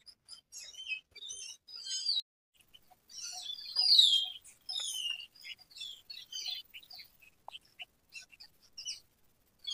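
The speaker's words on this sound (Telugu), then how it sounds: "ఎర్లీ మార్నింగ్ అయితే ఇంకా చాలా బర్డ్స్ సౌండ్స్ వినిపిస్తుంటుంది." Several birds chirp and trill at a coffee estate in Madikeri, Coorg, Karnataka, with bright, quick calls coming in bursts close by and no other sound around them.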